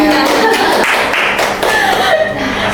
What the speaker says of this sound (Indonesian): kasih tepuk tangan dong semuanya